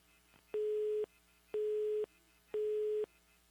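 A telephone busy tone after a dropped call sounds three evenly spaced, loud steady beeps, each about half a second long, over a faint background hum.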